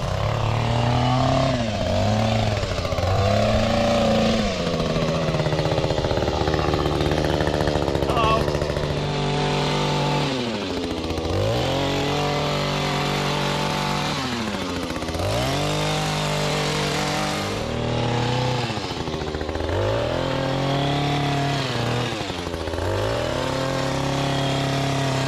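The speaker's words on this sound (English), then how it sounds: "The customer has just requested a final mowing here, so we're just gonna mow it up" A lawn mower runs loud and close while cutting a customer's lawn for a final mow, its engine note rising and dipping repeatedly as it works back and forth.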